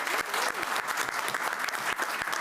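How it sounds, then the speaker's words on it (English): People at a school board meeting applaud a student being recognised, with brisk, close clapping from a modest group and a few distinct sharp claps standing out, and a faint voice underneath. "So everybody give her a great round of applause."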